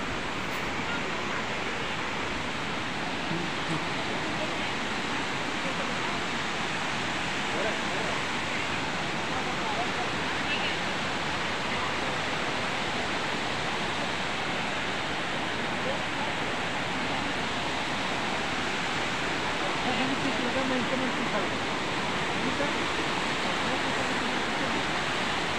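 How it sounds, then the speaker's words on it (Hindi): Steady broadband roar of a waterfall at Tiger Point near Ambikapur, continuous and even throughout with no clear voices over it. "है मेन पार्ट का खूबसूरत सा झरना टाइगर पॉइंट"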